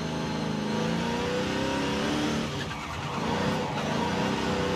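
A video game car engine roars loudly and steadily, revving high with a brief dip before climbing again, like a racing car being pushed hard.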